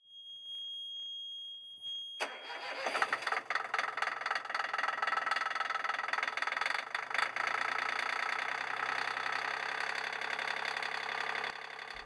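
A steady mechanical rumble starts suddenly after a brief high tone and runs on evenly, a close diesel engine idling without a break.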